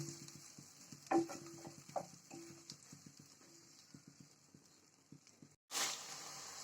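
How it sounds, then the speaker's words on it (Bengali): Spice paste for a cauliflower, potato and tangra fish curry being stirred in a pan, with a series of close, irregular knocks and scrapes of the spoon over a soft sizzle, ending in a brief louder burst. "মশলাটা 2 মিনিট কষাবো।"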